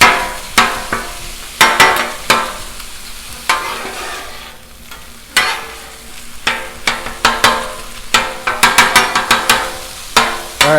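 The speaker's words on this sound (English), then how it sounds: "Just gonna chop and flip" Metal spatula chopping and flipping taco meat on a Blackstone griddle, with rapid repeated scraping clanks in irregular bursts over a steady background sizzle, loud and close.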